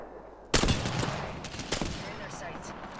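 A pistol fires in Apex Legends: a sharp loud shot opens a rapid string of cracks with echoing tails, followed by a few quieter shots fading into ambient game noise.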